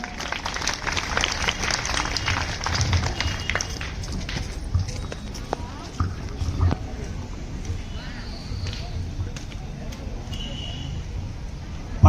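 Applause for a teacher at a school entry ceremony, a busy clatter of many hands from children and audience, strongest early and then thinning into scattered claps and shuffling, with voices in the background.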